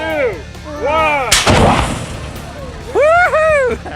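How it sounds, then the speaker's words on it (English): A pumpkin cannon fires once with a loud, sharp blast and rushing burst partway through, while children's excited voices shriek and call out before and after. "The pumpkin cannon never loses its thrill for Jim."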